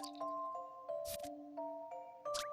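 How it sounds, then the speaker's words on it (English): Chiming tones from the signal bell puzzle in the video game Professor Layton and the Miracle Mask, a series of clear sustained notes changing pitch, with a few short sparkly effects in between. "Ring the bell that sends the signal to Randall."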